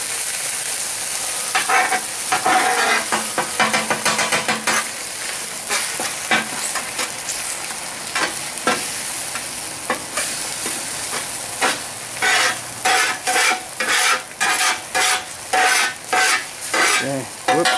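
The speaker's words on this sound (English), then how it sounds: "I'm going to break up the eggs, stir this around a little bit." Chorizo and eggs sizzle steadily on a 17-inch Blackstone propane griddle while a spatula scrapes and stirs them in quick, repeated strokes that grow more rhythmic toward the end.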